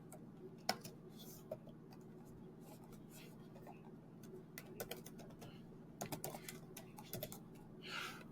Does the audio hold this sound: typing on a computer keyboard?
yes